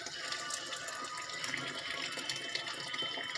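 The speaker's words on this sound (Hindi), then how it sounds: "इसमें ऐड कर दूंगी गरम पानी।" Hot water pours steadily into cooked masala for a desi-style rohu fish curry, a continuous gushing, splashing stream close by with no talk over it.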